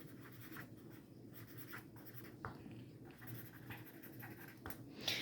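Pen writing by hand on paper, a faint close scratching with short strokes and small pauses, steady and quiet with no speech.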